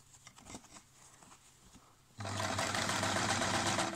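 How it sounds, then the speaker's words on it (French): Sewing machine stitching bias binding starts up after a quiet moment of fabric handling, then runs in a loud, steady whir of close, rapid stitching. "Et on commence à coudre."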